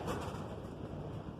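Gusting wind on a very windy day buffets the microphone outdoors, producing a low, rumbling roar with fluctuating pressure and no voices, steady for the short stretch.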